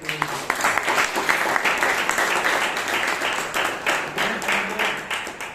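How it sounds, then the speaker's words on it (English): A Toastmasters club audience in Bangalore claps for the speakers, with a steady, even round of applause from a roomful of people lasting throughout. "can you round of applause for all the speakers?"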